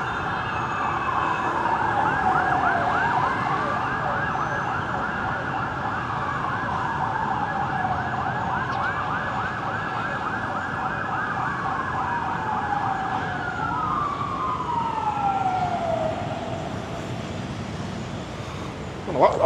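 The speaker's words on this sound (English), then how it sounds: "I don't know what all them sirens are flat out." Emergency vehicle sirens wail with rising and falling sweeps along a busy Ho Chi Minh City street. Traffic rumbles underneath, and one siren slides down in pitch near the end.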